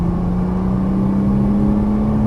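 Nissan GT-R accelerating on a race track as the throttle is rolled on, a steady loud engine drone with a rising tone, heard from inside the car.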